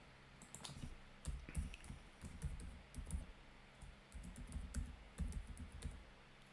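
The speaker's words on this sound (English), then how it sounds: "So I'm just going to type my first database." Quiet, fast typing on a computer keyboard, with irregular bursts of soft key clicks and taps continuing throughout, no voice.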